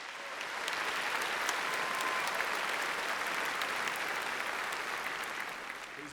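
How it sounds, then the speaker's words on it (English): A large audience at a high school graduation claps steadily for several seconds, a dense, even wash of applause heard from within the crowd. "Please recognize these students with a round of applause."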